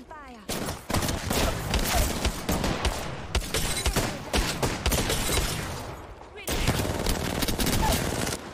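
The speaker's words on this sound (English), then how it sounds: "Taking fire." Video game gunfire: loud, dense, continuous bursts of rapid automatic fire, broken by a couple of brief pauses, with voices talking beneath it.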